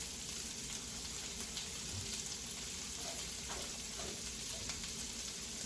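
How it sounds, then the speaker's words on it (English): Vegetable medley sautéing in a hot pan with butter and olive oil, giving a steady, dense sizzle and crackle that holds at an even level for the whole stretch, with no voice over it. "saute these veg until they get a good dark color on them"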